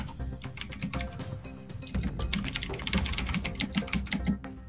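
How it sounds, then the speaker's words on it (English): Rapid, steady clicking of keys on a computer keyboard, close and continuous, with bursts of quick keystrokes and no talk over it. "Some typing."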